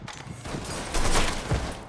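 Rapid bursts of gunfire as a gunman shoots up a brand new casino in the Mafia 3 video game, loud, dense volleys with a sharper burst near the end.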